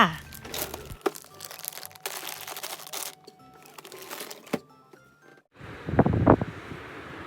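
Strong, cold wind buffeting an outdoor microphone in Japan, rumbling gusts with crinkling and rustling, joined near the end by someone speaking.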